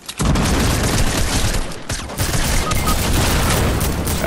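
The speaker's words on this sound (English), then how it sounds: "Grenade" A grenade goes off in a multiplayer shooter game: a loud, dense burst of blast and rumble that fills the whole stretch, with rapid gunfire-like crackle mixed in and no gap until the end.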